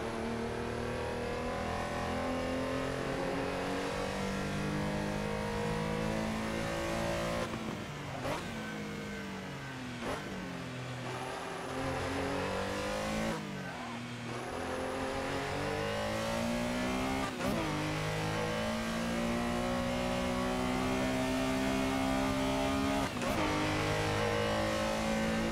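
Porsche Carrera engine in the Assetto Corsa racing sim at Silverstone, loud and steady, revving up through the gears with sharp drops at each shift and rising again, no talking.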